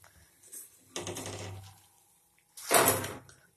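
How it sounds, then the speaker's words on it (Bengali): Crispy fried lentil fritters, Kolkata-style daler bora, crunch in two loud close bites separated by a short quiet gap, each a burst of dry crackling. "শব্দটাতেই তুমি বুঝতে পারছো যে কতটা কড়কড়ে মুচমুচে হয়েছে"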